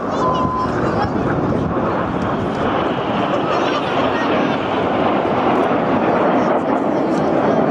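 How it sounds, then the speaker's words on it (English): Red Arrows synchro pair jets fly past upside down at a seaside air show in Clacton-on-Sea, Essex, their engines a loud broad roar that holds steady throughout, with wind buffeting the microphone. "give the synchro pair a wave as they fly past upside down"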